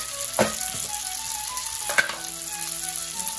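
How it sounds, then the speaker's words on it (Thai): A steady sizzle of spaghetti stir-frying in a hot pan, with a couple of sharp clanks of a utensil stirring against the metal. "ผัดไปให้พอเส้นมันสุกนะครับให้พอเส้นมันร้อนมันสุกเนาะ"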